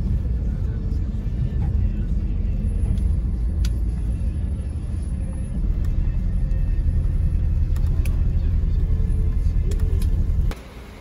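A car drives along a road toward a small airport for about half an hour, giving a steady, loud, close low rumble of engine and tyres that holds constant and then cuts down sharply near the end, with no talk.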